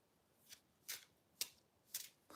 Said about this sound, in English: I'm going to shuffle the pack.